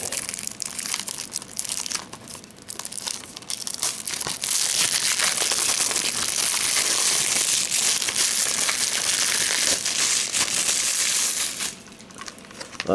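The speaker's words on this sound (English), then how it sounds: "Got the little plastic started." Plastic shrink wrap crackling and crinkling as it is peeled off an anime DVD case, a continuous close, loud crumpling that swells in the middle and eases toward the end, with no voices.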